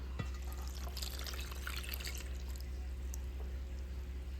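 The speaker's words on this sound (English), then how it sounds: "add your water." Water splashes and trickles into a bowl for a few seconds, fairly quiet, over a steady low electrical hum.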